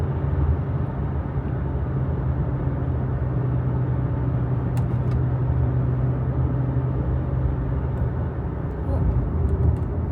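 Steady road and engine rumble inside a moving car on a scenic drive on Oahu, Hawaii, a continuous low drone filling the whole stretch with only faint brief ticks on top.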